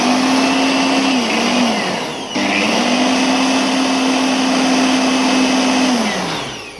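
Air from a blower hisses loudly and steadily through a bike's engine cooling system during a coolant flush, a continuous whooshing drone that briefly dips mid-way, then resumes and tapers off at the end.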